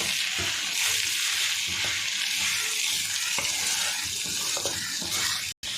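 Beef curry in coconut milk being stirred in a pan in a Kerala home kitchen: a moderately loud bubbling sizzle with repeated spoon scrapes and clanks in an uneven rhythm, close by and without talk.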